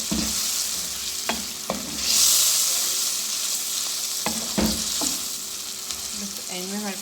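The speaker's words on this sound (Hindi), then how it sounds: "टमाटर को हम अच्छी तरह भून लेंगे।" Tomatoes frying with garlic and salt for sarson ka saag, a steady close sizzle with occasional clicks and knocks of stirring, alone without talk.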